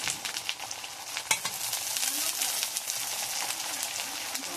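Ginger paste and spices frying with onions in a pan, a dense continuous sizzle with crackling pops and occasional stirring scrapes, close and fairly loud.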